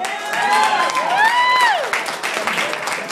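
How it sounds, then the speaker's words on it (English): Wedding guests clap and cheer for Mike Cook at a family celebration, a dense, steady crowd wash with whooping voices and a rising whistle-like cheer riding over it, continuous for about three seconds. "Round of applause for Mike Cook."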